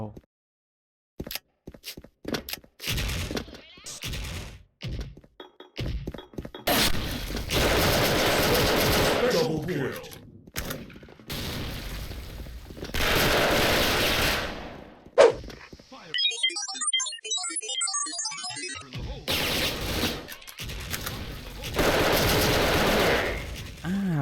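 Automatic Tiger Galil rifle fire in the Special Force online shooter game comes in long, dense bursts of rapid shots, loud and close. Gaps separate the volleys, and a voice talks in places.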